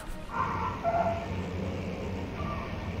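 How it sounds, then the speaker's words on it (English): A dog barks and yips inside a horror video game, a few short calls in the first second over a low droning ambience, then quieter murmuring tones trailing on. "Is that a dog?"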